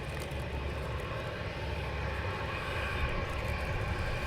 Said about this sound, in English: Easyjet 321 taken off,